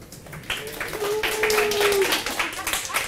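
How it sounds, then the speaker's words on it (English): A small conference audience claps briefly, a scattered burst of applause rising and thinning out over a few seconds, fairly close. "I need at least one round of applause for my slide."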